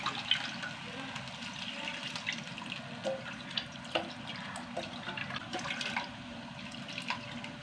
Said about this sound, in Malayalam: പുളി വാട്ടർ ഒഴിച്ച് കൊടുക്കാം.